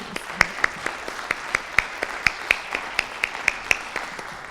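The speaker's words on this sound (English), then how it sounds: "Let's give her a round of applause for being here." Scattered audience applause, a steady patter of many hands with sharper individual claps standing out in an irregular rhythm throughout, moderately loud and without talk.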